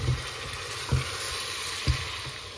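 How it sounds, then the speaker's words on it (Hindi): Paya (trotters) frying in a pan with masala and Kashmiri red chili: a steady, close sizzle with a few dull thumps of stirring at regular intervals, and no voices. "इसे मैं अच्छे से भून लूँगी"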